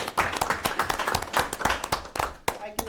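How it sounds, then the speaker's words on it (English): A small group claps at a town select board meeting, a short run of uneven, close hand claps with a few louder individual smacks, with some speech mixed in. "Can we have a round of applause for them?"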